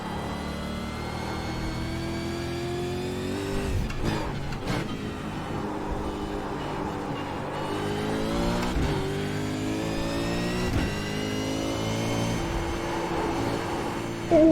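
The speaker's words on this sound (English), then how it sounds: "Ah, downshift." A race car engine on a track revs hard through rising harmonic sweeps, with sharp breaks around four and nine seconds where it downshifts, then climbs again, loud and close throughout.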